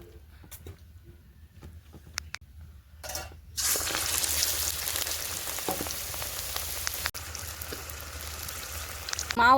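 Coriander leaf fritters frying in hot oil, a steady close sizzle that starts after a quiet stretch of a few seconds and keeps crackling evenly to the end.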